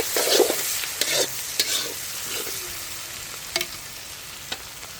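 Meat with onion and lightly boiled chopped garlic stir-fried in oil at a family picnic cookout, with a steady low sizzle broken by several scraping stirs of a spoon against the pan.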